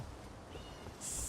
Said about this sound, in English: I don't know if you can hear this in the background, but my cat wanted to come and say hi.